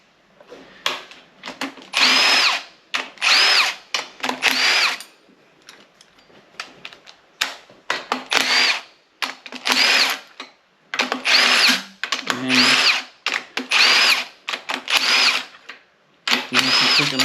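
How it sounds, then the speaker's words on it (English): A pneumatic impact wrench rattles in repeated short bursts while loosening bolts on a Mazda 13B rotary engine during teardown, loud and close, with brief quiet gaps between each hammering burst. "once we've got them all loosened off, we can go back to the rattle gun."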